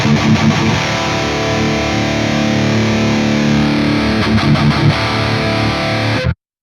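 A heavily distorted electric guitar plays thick, sustained chords with a tone smoothed and rounded by Logic Pro Match EQ, stopping abruptly at the end.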